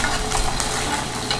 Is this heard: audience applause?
no